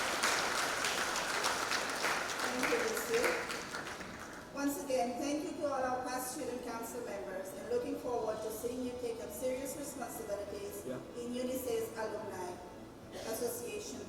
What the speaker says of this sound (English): Ladies and gentlemen, another big round of applause for their contribution to UNICEF Student Council.